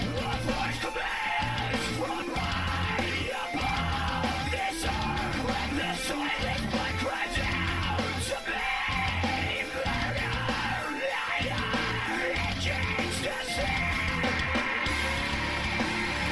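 Harsh yelled vocals from a metal singer at a live concert, loud and sustained over dense, pounding band music with steady drums throughout.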